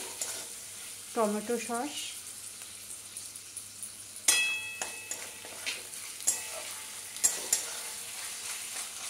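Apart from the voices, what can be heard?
stirring chicken vegetable pasta mixture in a pan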